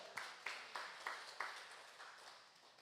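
Church congregation clapping at a Friday worship service, a handful of sharp, faint hand-clap bursts spaced irregularly across a few seconds, quiet and somewhat distant.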